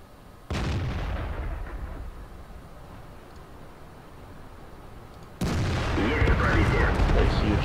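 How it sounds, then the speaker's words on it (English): Two heavy tank cannon shots in World of Tanks, each a sudden loud boom followed by a long rumbling decay, the second one louder and denser. "A huge shot to that guy."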